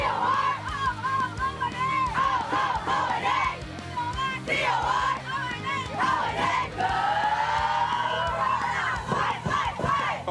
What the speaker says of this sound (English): We're looking for the crowd to be loud every time and the student body